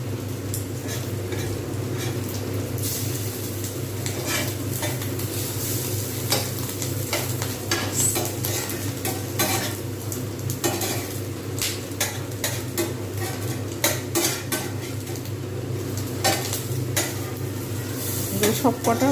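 Rohu fish roe fritters with potato and pointed gourd fry in hot oil, giving a loud unbroken sizzle under a steady low hum, with frequent clinks and scrapes of a utensil turning them in the pan.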